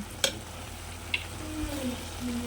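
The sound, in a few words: tomato, onion and ginger sautéing for chicken biryani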